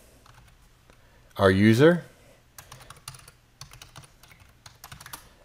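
Typing on a computer keyboard during Windows Server 2019 setup, a scatter of light key clicks in short bursts after a brief spoken phrase.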